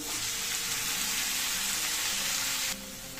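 Chopped okra frying in a pan: a steady, close hiss of sizzling oil fills the scene, then drops a little softer near the end, with no talk over it.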